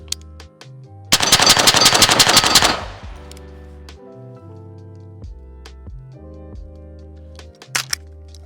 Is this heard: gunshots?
yes